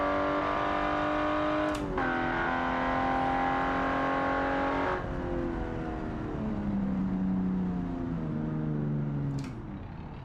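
A car at a quarter mile drag race accelerates hard, its engine note climbing steadily through a couple of sharp gear changes, loud and close throughout.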